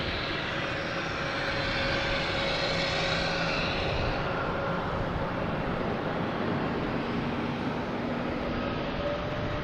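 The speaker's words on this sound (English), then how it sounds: "Next to arrive, we have Delta from Los Angeles, a 757-200, flight" A Delta Boeing 757-200 arriving from Los Angeles at Boston Logan, heard as a steady broadband jet rumble with a faint engine whine, moderately distant and continuous throughout.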